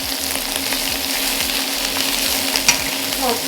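Garlic, salt and MSG stir-fried in a hot wok for Chinese takeaway salt and pepper chips, a steady loud sizzle with rhythmic scraping strokes of a stirring utensil throughout.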